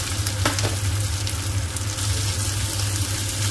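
Chopped tomatoes sizzle steadily in a hot pan with browned onions, a continuous close frying hiss with a couple of soft scraping stirs near the start and no talking.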